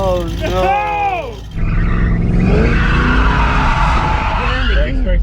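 Car tires squeal and skid under hard braking in a long, loud screech, close by, with excited voices shouting over it.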